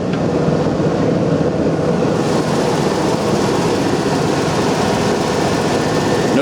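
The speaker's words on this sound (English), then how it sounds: "The truck fires right up." A Ford F250 XL 4WD pickup engine idles with a loud, steady, low rumble that continues without a break throughout.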